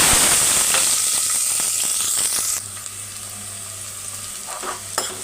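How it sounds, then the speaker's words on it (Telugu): Onion dropped into hot oil with popping mustard and cumin seeds, a loud steady sizzle with stirring clatter for the first half that then settles into a quieter, even frying hiss with a couple of sharp pops near the end. "ఇప్పుడు ఉల్లిగడ్డ వేస్తాను."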